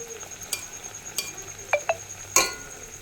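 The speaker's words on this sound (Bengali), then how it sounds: "এখন এই যে এরকমভাবে হালকা লাল করে করে ভাজবো" Pieces of food frying in hot oil over high gas give a soft, steady sizzle, with a few sharp utensil clicks and taps scattered over about three seconds and no talking.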